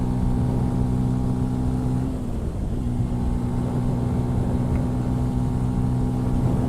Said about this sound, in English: I'm pushing this bike like to its top speed already